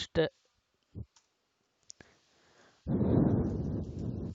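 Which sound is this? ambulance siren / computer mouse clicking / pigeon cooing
computer mouse clicking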